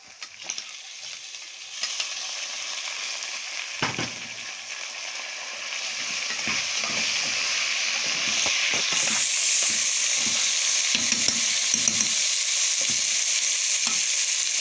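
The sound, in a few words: rice with vermicelli being sautéed in a pan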